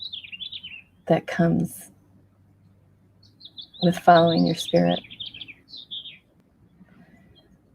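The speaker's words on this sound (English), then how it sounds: "fabulous bird behind me" A bird sings outdoors in short chirping phrases that run through most of the stretch, moderately loud behind a person talking calmly.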